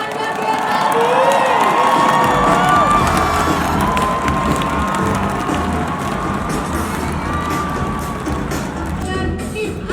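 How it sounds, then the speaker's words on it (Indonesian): A live crowd at an Indonesian entertainment show cheers for a couple: loud, continuous shouting and cheering with shrill, high voices. It sounds close and packed, with no distinct speech above it. "mari kita berikan tepuk tangan untuk pasangan Raisa Andriana dan Angga Gennady"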